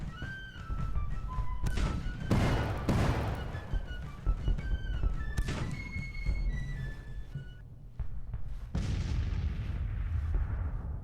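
Artillery fire in the Civil War strategy game Grand Tactician booms in repeated heavy thuds and blasts over a steady battle din, with high tonal game sounds mixed in and no voices.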